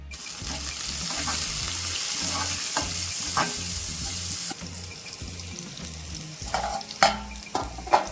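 Gongura leaves stir-fry with chopped onion and green chili in a pan, a close crackling sizzle with repeated scraping stirs, then a brief splash of running water near the end; nobody speaks.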